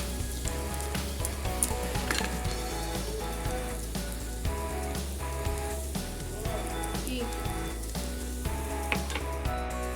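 Cabbage frying in a pan with salt and turmeric, a continuous dense sizzle like light rain on a surface, steady and close throughout, with faint stirring and no speech.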